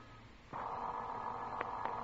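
A telephone rings in an old radio drama, a sustained electric bell tone starting after a brief pause and holding steady, with a couple of small clicks, no voices over it.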